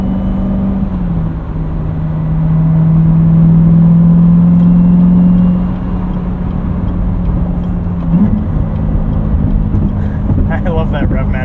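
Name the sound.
2019 Chevrolet Corvette Z06 engine revving during rev-match downshift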